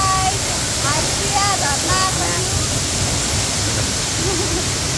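The twin Chitlang waterfall at Chainpur, Sankhuwasabha, Nepal roars as a constant, dense rush of falling water, loud and unbroken throughout, with a few brief voices faintly audible early on.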